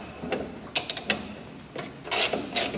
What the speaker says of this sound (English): Using a 1/2 inch, I'm just going to loosen and remove these 2 shock mount bolts.